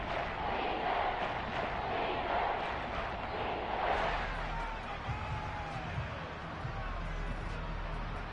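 A stadium crowd in a Seahawks football video game swells into a broad, steady roar before a big third down, with a commentator talking over it throughout.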